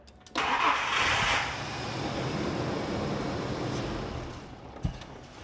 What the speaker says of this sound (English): cycle the ignition from off all the way to start, and that'll drain it down further